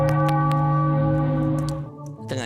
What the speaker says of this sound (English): I think I need to get another sound effect besides the bell.